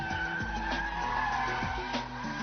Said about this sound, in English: catch the slide with the steering, then balance the throttle in order to keep the slide going